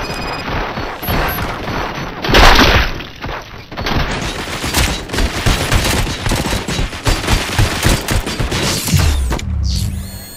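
Heavy gunfire in RoboCop Rogue City, with dense overlapping shots and booms that keep going almost nonstop, loud and chaotic, with crashes and mechanical clatter mixed in.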